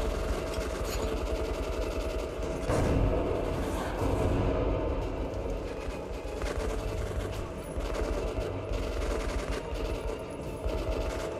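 Machine gun fire in the video game Metro Last Light Redux: several bursts of rapid rattling shots, at moderate loudness, cut through a rumbling mechanical background with uneven gaps between them.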